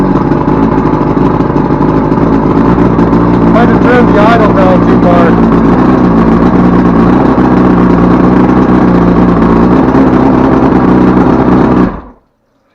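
A 1979 Evinrude 100 outboard motor runs steadily and loud, a continuous engine drone held close for about twelve seconds before cutting off abruptly.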